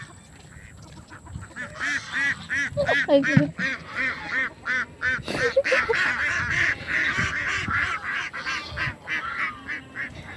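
Geese honking and ducks quacking in a farmyard flock, a busy run of repeated nasal calls close by, with a person's voice briefly heard among them.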